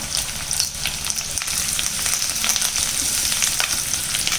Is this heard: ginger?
yes